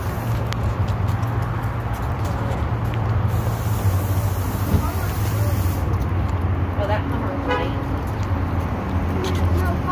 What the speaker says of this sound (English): Hold on, I think this truck is backing up.